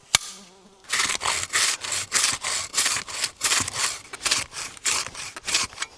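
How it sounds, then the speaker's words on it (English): A handsaw cuts through wood in a steady run of about a dozen rasping back-and-forth strokes, loud and close, after a brief quiet moment with a single sharp tap. "I'll try using this handsaw instead of the axe."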